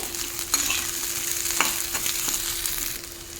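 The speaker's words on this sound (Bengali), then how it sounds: "বেগুনটাও আলুর সঙ্গে একটু ভেজে নেব।" Chopped eggplant and potato fry in a pan with a steady close sizzle, broken by a few sharp scrapes and stirs of a utensil; no one speaks.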